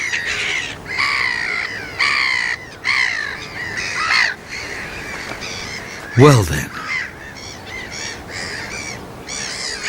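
Gulls calling repeatedly above the rooftops of a fishing village, harsh loud squawks and cries in overlapping bursts, with one louder nearby call partway through and a brief spoken remark.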